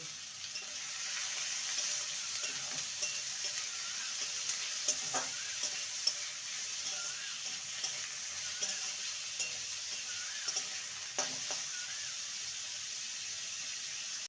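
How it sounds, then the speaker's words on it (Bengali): Onion, tomato, a few pieces of ginger and four or five garlic cloves frying together in a pan, a steady close sizzle with occasional scraping stirs and clinks, no talking. "মশলাটাকে ভালো করে ভেজে নিয়েছি"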